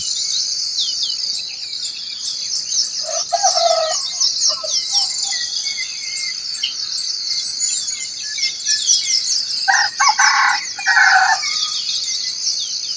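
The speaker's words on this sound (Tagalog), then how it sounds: "Mga bagong gising na mga manok, mga ibon." A rooster crows twice in the distance, about six seconds apart, over a constant high buzz of insects.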